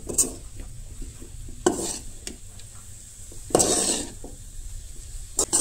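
Coconut dry-roasting with turmeric and masala in a pan, a spoon scraping and stirring with soft sizzling and a few sharper clinks of metal on the pan, close by and without speech.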